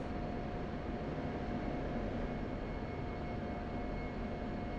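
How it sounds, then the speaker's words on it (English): A steady F-16 jet engine roar in a flight simulator, a constant even rumble holding at moderate level with a faint high whine, no voices. "Love the sound of the F-16."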